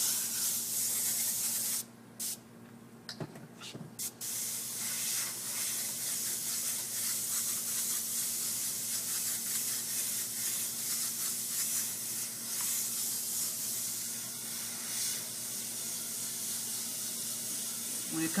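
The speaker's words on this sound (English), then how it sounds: "this airbrush is performing perfectly. It's not spitting." A paint airbrush hisses in a continuous steady spray, close and even, with a short break in the flow near the start and a faint voice at times underneath.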